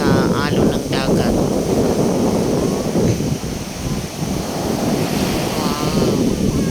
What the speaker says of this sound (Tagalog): Nag-enjoy na lang ako manood sa alon ng dagat.